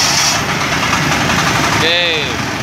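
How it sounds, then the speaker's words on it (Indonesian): A Matsumoto 10 hp MTM 1380 DE mini tractor with an electric starter runs at idle after starting, a loud, steady, close diesel rumble throughout. "baru gas dinaikkan dikit, baru starter."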